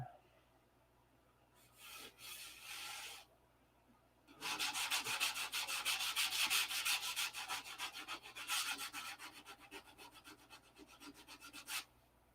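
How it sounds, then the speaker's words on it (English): Sandpaper rubbing across a model P-47 airplane wing, with a short burst of sanding, a pause, then a long sustained stretch of rapid back-and-forth strokes, close and moderately loud with no talking. "got this one wing sanded out"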